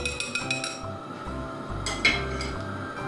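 Batter for chicken chops beaten in a bowl, heard as a quick run of close clinking taps of utensil against dish, a pause, then a few more scrapes and clinks, with no voices.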